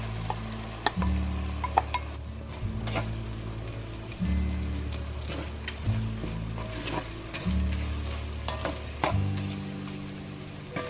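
Garlic and carrots sautéing in a soup pot, a steady close sizzle broken by repeated rhythmic stirring scrapes and low thumps every second or two.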